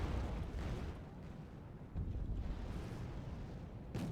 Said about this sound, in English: the challengers, thanks to all those HE explosions, are getting panicked